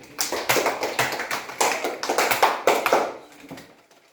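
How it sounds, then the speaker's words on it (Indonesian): Classroom applause for a student, a short round of hand clapping in several uneven bursts that fades out toward the end. "Berikan tepuk tangan kepada Tri"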